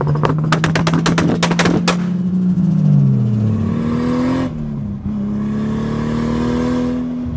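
A 500 hp 2JZ-swapped Lexus SC300 roars through the exhaust, with sharp crackling pops early on, then the engine note climbs and drops through gear changes and settles into a loud, steady drone close by.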